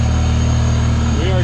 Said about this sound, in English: Idles perfectly.